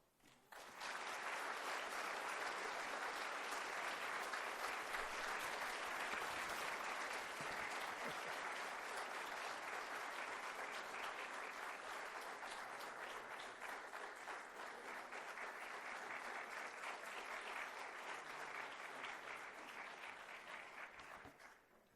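Audience applause for award winners at a college's spring state-of-the-college event: a broad, continuous wash of clapping from a large crowd, steady and moderately distant, lasting about twenty seconds before tapering off at the end.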